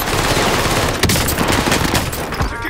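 Rapid gunfire bursts in Call of Duty: Modern Warfare, dense and loud automatic shots crackling continuously throughout, with sharp transient cracks layered over a constant battle din.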